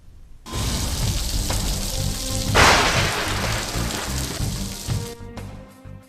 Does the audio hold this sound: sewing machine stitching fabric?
no